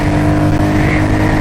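A 2021 Royal Enfield Meteor 350 motorcycle pulls hard in third gear, its loud, steady engine drone close up with rushing wind throughout.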